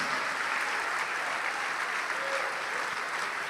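A church congregation applauds steadily during a worship service, a dense, even wash of clapping that holds at a constant level throughout with no pauses.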